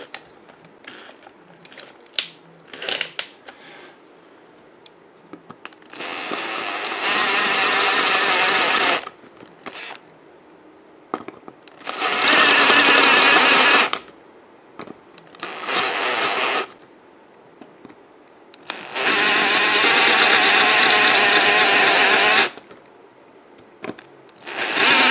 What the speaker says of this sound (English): This fits in here, so I'm going to use this drill bit. This is 8 millimeters.